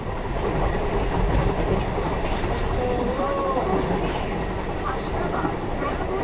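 A Sealdah–Bongaon local train rolls along with a constant loud rumble and clatter of wheels on rails, with faint squeals and voices in the carriage beneath the noise.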